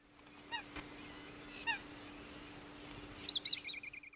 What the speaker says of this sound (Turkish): Kuşlar için bulunmaz imkanlar sunan Milli Park bugünlerde rengarenk kuşlarla dolup taşıyor.